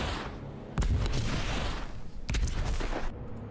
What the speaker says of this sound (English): Explosions away, cool.